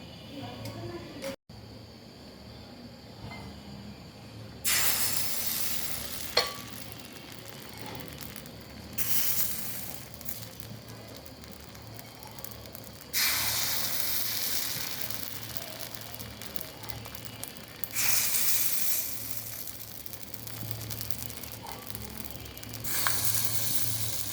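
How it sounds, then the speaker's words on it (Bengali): Rice flour pitha batter poured into a hot iron mould, bursting into loud sizzling hiss that comes in several bright waves and trails off between them, with a voice talking over it. "একটা লোহার খাজ ভালো করে গরম করে নিয়েছি এবার দিয়ে দিচ্ছি পিঠা তৈরির গোলা"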